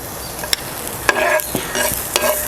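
Chopped green chilli sautéing in hot ghee for an egg snack, a steady close sizzle with a few sharp stirring scrapes and clicks of a utensil against the pan, no voices.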